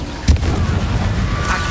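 Bombarda spell explosion in Hogwarts Legacy, a sharp close blast followed by a lingering low rumble, with a softer hit just after.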